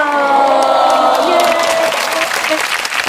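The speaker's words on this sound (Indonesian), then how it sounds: "tepuk tangan dulu dong" A podcast studio audience claps and cheers to celebrate a new studio, a loud, dense burst of applause mixed with whoops and excited voices that carries on for about three seconds.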